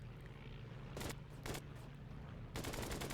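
Bursts of gunfire in the WWII arcade flight game Flying Tigers: Shadows over China, three loud sharp volleys over a steady aircraft engine drone, the last burst longer and sustained.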